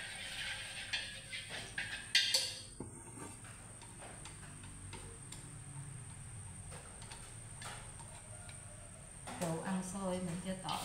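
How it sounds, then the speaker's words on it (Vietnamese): Pork sizzles in hot cooking oil in a pan at home, with a steady crackling hiss and occasional louder spatters and utensil clatter near the start and end. "Bên đây em chiên thịt."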